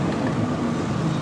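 A BMW M5 exhaust held near 4,700 rpm in second gear gives a steady, loud, continuous drone with a low rumble and wind buffeting mixed in.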